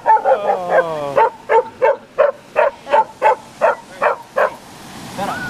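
A dog in Taiwan barks close and loud, giving about a dozen evenly spaced barks after a brief whine.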